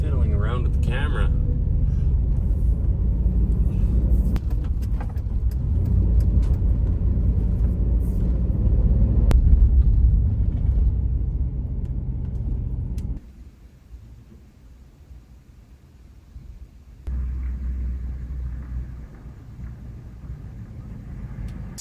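A 1965 Ford Galaxie 500 rumbles along the road, its engine and road noise steady and close, dropping off for a few seconds before returning.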